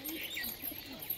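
Pet racing pigeons, including a red one, coo softly and close by in a short burst with faint chirps.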